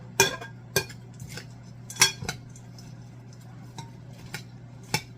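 Sweet potato tuna casserole mixture being stirred, with sharp clinks of a utensil against a dish at irregular intervals over a low steady hum, close and fairly quiet.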